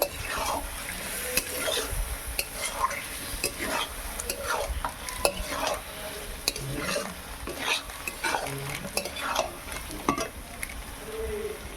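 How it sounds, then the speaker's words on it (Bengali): Ingredients for pulao made with Gobindobhog rice, salted, are stir-fried in a pan: repeated scraping stirs over a steady low sizzle, close and alone, with faint bird calls in the background. "ভালো করে এটাকে কষিয়ে নেব।"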